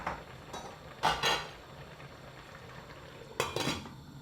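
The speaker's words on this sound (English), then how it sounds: "I'll just pop the lid back on again." A metal lid goes back onto a cooking pot of pumpkin pieces boiling in water, giving a few clinks and two clear clattering knocks against the rim.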